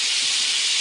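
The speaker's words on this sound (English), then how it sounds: "We're going to go ahead and put them in there and saute them down so they get real tender." Fresh mushrooms sauté in a hot pan, giving a bright, steady sizzling hiss that stays loud and unbroken for the whole short moment.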